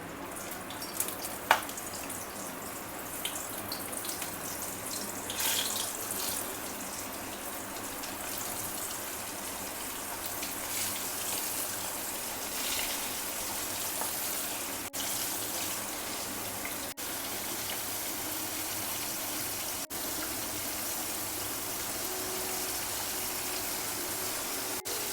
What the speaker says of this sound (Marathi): तेल गरम करून झाल्यावर गॅसची फ्लेम मीडियम करायची आणि आपली कोळंबी घालून घ्यायची